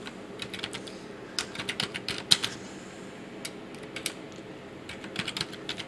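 Typing a name on a computer keyboard in accounting software, irregular bursts of sharp close key clicks with short pauses and no voice.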